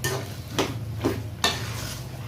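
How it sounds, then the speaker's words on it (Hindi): A spoon stirs makhandi halwa in a pan in three distinct scraping strokes over a low steady hum, each stroke a short rasping swish. "10 मिनट तकरीबन हो गए हमें चम्मच चलाते हुए।"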